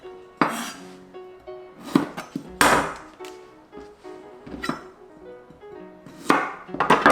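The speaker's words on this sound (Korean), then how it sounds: "꼬다리 요거 잘라주세요" A kitchen knife chops stem ends off fatsia shoots on a cutting board, giving about eight sharp, close cuts at irregular intervals, some in quick pairs, with brief quiet gaps between.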